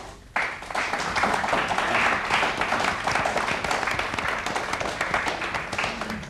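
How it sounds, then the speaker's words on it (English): A studio audience at a science quiz show applauds to welcome a guest, the clapping starting abruptly and holding as a steady, dense roar throughout. "let me ask you to give a big applause"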